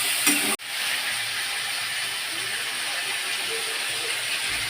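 Chopped vegetables sizzle steadily in a hot pan while being stirred for a home-made fig and chicken curry, a dense continuous hiss after a brief clatter at the start.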